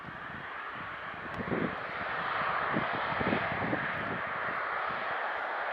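An airliner arriving at Manchester Airport rumbles past with a broad, swelling engine roar and some wind buffeting, staying steady and moderately loud throughout with no talking.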